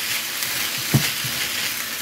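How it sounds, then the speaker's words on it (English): Rice being stirred in a pan with soy sauce gives a steady soft sizzle and scraping hiss, with one brief louder scrape midway; no voices. "you just stir that around to mix, get all the rice in it"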